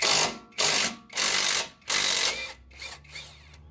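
An impact wrench with a 5/16 hex socket on a nut during a Jeep lift kit install, four loud short bursts of hammering followed by a couple of weaker hits.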